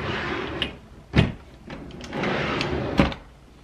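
Makeup storage drawers being pulled open and handled indoors, giving a few sharp sliding clunks and knocks spaced over a few seconds with brief rustling between them.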